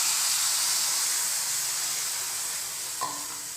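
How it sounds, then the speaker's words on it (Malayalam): Milk stirred into a banana vermicelli mixture in a hot pan gives a steady, close hiss of steam and sizzle, with one brief clink of a utensil near the end. "നല്ലോണം മിക്സ് ചെയ്യുക"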